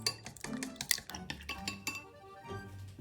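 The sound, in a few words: eggs being beaten in a bowl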